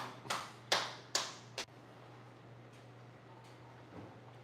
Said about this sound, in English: a round of applause for that lady, please